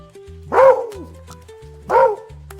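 Two loud, close dog barks spaced about a second and a half apart, each a sharp tonal yelp, used as a sound effect in a children's story about a greedy dog carrying a bone.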